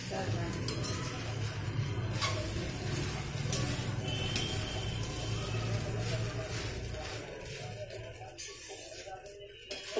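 Flattened rice and peas are stirred in a pan, with a spoon scraping and clinking against the metal over a low sizzle. Voices are faintly present.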